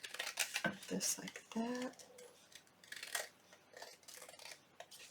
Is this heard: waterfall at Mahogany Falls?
no